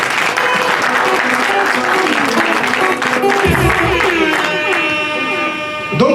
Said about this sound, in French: J'aimerais que vous applaudissiez.